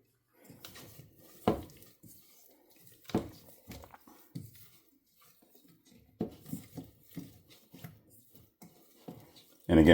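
A spoon scraping and tapping against a pot while chocolate melts slowly on low heat for chocolate syrup, irregular soft clinks and scrapes with pauses, close and fairly quiet.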